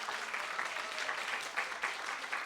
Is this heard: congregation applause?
yes